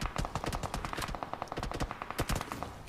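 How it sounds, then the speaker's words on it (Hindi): Automatic gunfire in the BGMI battle royale game rattles in rapid, evenly spaced bursts of sharp shots, fairly quiet and heard alone without voices. "उतने में ही एक और बंदा गोली चलाता है"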